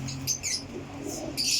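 Racing pigeons give short, close calls and chirps in a few quick bursts, with no talking.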